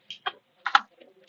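Scattered clicks of fingers typing on a computer keyboard, a few quick key presses in small bursts with pauses between, close and fairly quiet with no talking.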